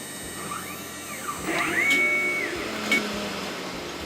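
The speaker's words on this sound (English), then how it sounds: "Go to Next, go to Start, and we can start up our dust collector." A CNC router V-carving a wooden wine bottle holder with a clearance bit hums steadily alongside a running dust collector, with whining pitch sweeps as the spindle moves through the cut, moderately loud and continuous.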